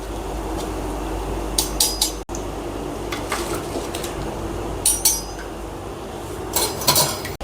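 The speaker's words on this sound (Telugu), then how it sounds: "మొత్తం ఆయిల్ అంతా ఇలా వడకట్టేసుకోండి." A metal ladle scrapes and clinks against a pan while draining oil from fried chitti bondas, scattered bright metallic taps over a steady low hiss of hot oil, close by and without talk.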